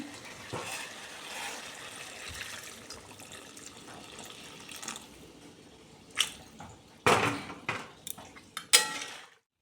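Hot water is poured from a pot into simmering chicken curry, a gentle trickling pour followed by louder splashes and clanks of metal cookware near the end.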